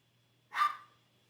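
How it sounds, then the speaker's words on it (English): A single short, sharp bark from a small indoor dog, fairly close, in an otherwise quiet room. "She is barking."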